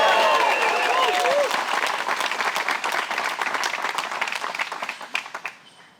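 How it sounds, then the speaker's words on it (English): Crowd applause at a women's disc golf world championship round, a dense burst of clapping that starts loud, thins into scattered claps and fades out over six seconds, with a voice briefly heard at the start. "Let's give a big applause for Kristin Tattar."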